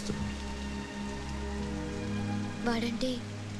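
Rain falling in a steady patter throughout, with a low background hum and a voice briefly speaking near the end.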